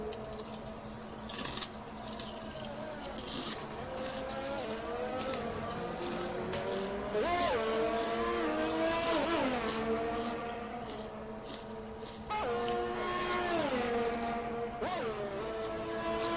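Race car engines in F1 2020 at the Australian Grand Prix, whining as they rise and fall in pitch through gear changes, steady and fairly quiet in the background.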